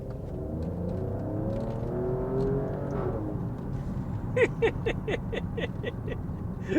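An Alfa Romeo Stelvio Quadrifoglio SUV engine revving, a moderately loud rising and falling note, followed by a run of sharp rhythmic pops and crackles near the end.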